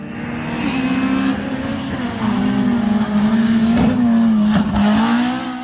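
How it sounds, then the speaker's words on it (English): Honda Civic rally car driven hard on a winter-series special stage at Shackleton/Ballykelly, its engine droning loud and close, revs rising and dipping through gear changes with brief tyre scrabble, continuous for several seconds. "Lee McLaughlin's pushing the Civic hard in the battle for the Class 5 honours."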